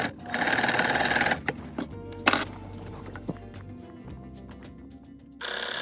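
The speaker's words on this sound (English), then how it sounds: "sew the added on fabric to the other half of the pant and do the top stitch again" A sewing machine top-stitches added-on fabric onto a pair of pants as part of widening the waist, with a loud steady run at the start, a short burst midway and another run at the end, separated by quieter handling clicks.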